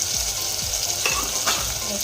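A spoon stirs spice powders (salt, turmeric, coriander-cumin, garam masala and red chilli) into a sizzling tomato curry in a pan, with steady frying hiss and a few soft scraping strokes, close and continuous.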